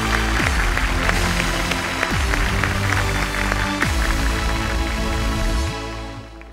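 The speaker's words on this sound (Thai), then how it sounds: "ขอเสียงปรบมือด้วยครับ" An audience at an innovation awards event claps steadily and loudly, a dense sustained applause that fades out near the end.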